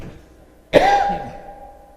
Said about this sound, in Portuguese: Ao longo da palestra eu vou tossir muito.